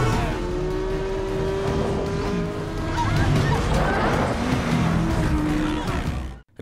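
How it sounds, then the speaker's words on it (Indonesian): A car rams into another car in a film scene: engine roar and tire noise build to a harsh crunching impact, loud and continuous, with a voice talking over it. "Nigel yang ada di sana dengan sigap menabrak mobil Dabney hingga membuatnya pingsan."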